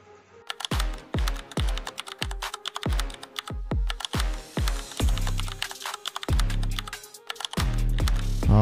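Fingers type on a computer keyboard into Notepad, a close, fast run of crisp key clicks in irregular bursts with short pauses, heard alone.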